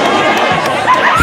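Crowd noise at a wrestling event, a continuous loud roar of voices and chatter filling a short stretch.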